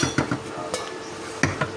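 A lid goes onto a pot of simmering tomato sauce for rougail saucisses, giving a few close metallic clinks and clanks in quick succession, then a pause and a final louder clink.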